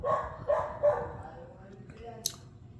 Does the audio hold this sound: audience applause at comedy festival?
no